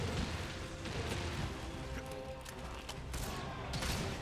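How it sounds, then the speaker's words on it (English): A heavy bowgun in Monster Hunter Rise fires a rapid stream of piercing shots, a dense, continuous barrage of booming bursts that recur every fraction of a second over busy game noise. "All the piercing shots."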